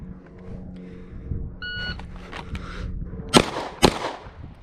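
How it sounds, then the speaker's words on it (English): A Glock 48 pistol is drawn and fired twice during a police qualification course, with two sharp, loud shots about half a second apart following faint holster and handling rustle over low background noise. "I have to draw and fire 2 rounds in under 2 seconds"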